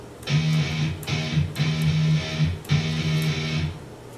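An electric guitar plays repeated groups of three quick notes, in four bursts with short gaps between them.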